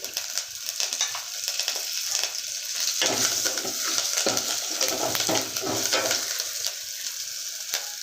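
Curry leaves fry in hot oil in a pan for tomato rasam, giving a steady bright sizzle that swells louder midway as stirring scrapes through, with no voices over it.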